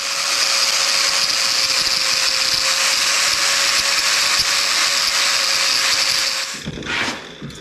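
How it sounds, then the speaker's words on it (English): A grinder taking a metal ridge off for a truck radiator on a 1974 Chevy C20 cooling system job, a loud steady high whine held for several seconds before spinning down, close up with no talking. "I'm gonna grind them up first. I'm gonna take the rest of that ridge off."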